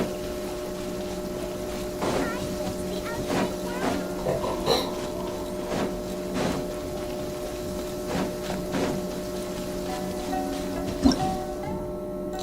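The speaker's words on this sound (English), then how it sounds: "listening to the rain from the courtyard" Rain falling in a courtyard, a steady wash of patter with a constant low hum beneath it and scattered nearer drips and taps throughout.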